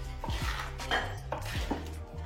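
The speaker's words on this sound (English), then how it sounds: "Next we've got to chop all of the spinach, ready to go cooking in the pan." A knife chops spinach on a board for spinach curry, a few soft, uneven thuds close by with faint kitchen clatter and no talk.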